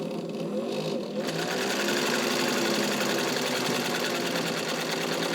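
A 1942 Kenmore Streamline rotary sewing machine, model 117.59, freshly serviced, runs steadily at its longest stitch length, its motor hum and needle mechanism chattering loud and continuous after a brief quieter start.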